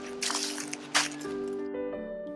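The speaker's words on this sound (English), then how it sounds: "ended at a running stream, listening to the sound of water." Running water from a stream in pine woodland, a steady wash of trickling and dripping with a couple of brief louder splashes, heard close and alone.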